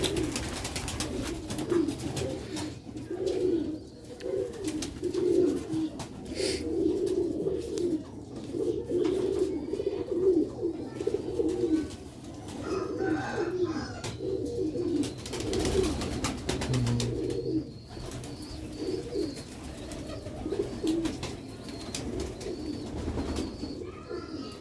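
Pigeons of a breeding pair and their young coo over and over, close and fairly loud, the rolling calls overlapping almost without pause.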